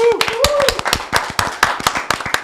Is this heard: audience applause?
yes